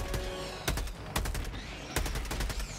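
Rapid automatic gunfire in the co-op shooter Helldivers 2, sharp repeated bursts in quick clusters with short gaps, loud and close, with no talking.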